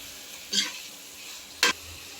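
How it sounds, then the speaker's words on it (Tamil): Half a kilo of chicken for biryani being sautéed in a pan, with two short scraping stir strokes over a faint background sizzle and no talking. "அரை கிலோ சிக்கன் எடுத்திருக்கேன் நல்லா வதக்கிடலாம்"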